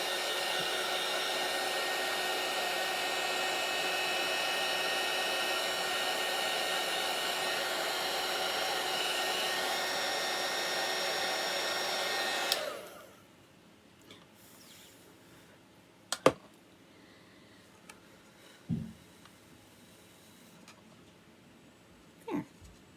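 A blow dryer hums loudly and steadily for about twelve seconds while drying chalk paint on a sign, then cuts off abruptly, leaving quiet room noise with a few faint clicks and handling sounds.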